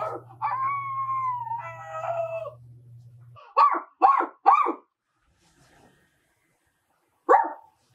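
A dog barking at people from a window gives a drawn-out howling bark, then three sharp barks in quick succession, a pause, and one final bark, fairly close with quiet gaps between.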